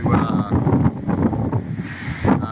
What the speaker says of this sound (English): The wind, if anything, seems to be picking up